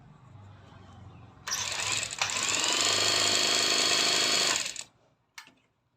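An industrial sewing machine with a rotary hook stitching stretch fabric, starting abruptly after a low hum and running as a loud, fast, steady mechanical whir for about three seconds, then stopping, followed by one short burst.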